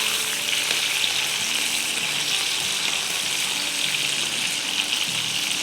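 Brinjal (eggplant) pieces fry in a pan of oil, making a steady, moderately loud sizzle with soft bubbling and faint clatter underneath.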